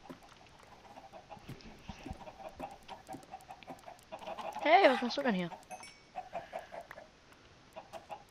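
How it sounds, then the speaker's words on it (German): Minecraft chickens clucking in a coop, faint scattered clucks at first, then a louder squawking burst near the middle and a few more clucks, with someone talking briefly over them. "Ach ja, Lennarts Hühnerstall."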